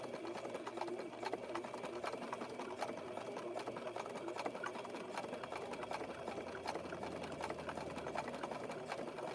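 A sewing machine stitches two coils of rope together for a rope basket with a wood round bottom, running in a steady, continuous whir with a fast needle rhythm and no pauses.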